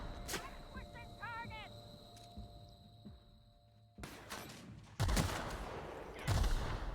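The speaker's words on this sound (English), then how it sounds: "I know something's shooting me right now, and I'm actually taking quite a bit of damage" Gunfire strikes the player in The Outer Worlds, with sharp shots and a burst of impacts in the last few seconds, loud over quieter game ambience and a few electronic chirps.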